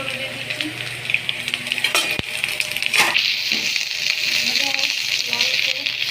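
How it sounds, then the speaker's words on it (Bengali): Cauliflower florets frying in a pan, a steady sizzle through the whole stretch with occasional scrapes and clatter from stirring, and no talking over it. "ফুলকপি ভাজছি"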